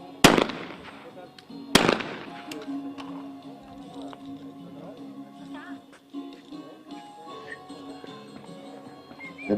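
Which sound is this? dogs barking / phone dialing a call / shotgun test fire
shotgun test fire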